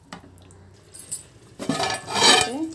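A spoon stirs jaggery into an eggplant (brinjal) curry in a pan, giving a few scattered metallic clinks and scraping taps, quiet at first and then a denser burst of clattering near the end.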